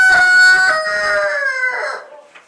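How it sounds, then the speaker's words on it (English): A rooster on a homestead crows from up underneath a structure, one loud, close, drawn-out cock-a-doodle-doo that tails off over a couple of seconds, with no talk. "Oh, he's up underneath there crowing."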